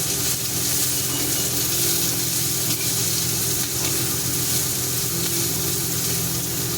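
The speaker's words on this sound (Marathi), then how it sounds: "आपण कांदे भाजून घेऊ" Onions frying in a pan give a steady, dense, close sizzle that hisses evenly throughout with no pauses or talking.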